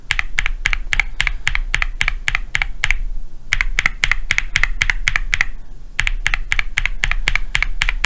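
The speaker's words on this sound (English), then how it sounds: "So lubing deepens the sound ever so slightly." A steady run of lubed G Square Dreamland keyboard switches being typed, fast even keystrokes sounding close and clear, with two brief pauses, no speech.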